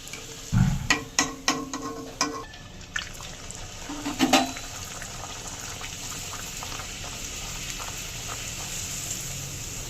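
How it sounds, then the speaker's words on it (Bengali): Chhana luchi frying in hot oil, with a series of sharp bubbling bursts and clatter early on, then a steady close sizzle continuing alone. "লুচিগুলো ভাজা হচ্ছে।"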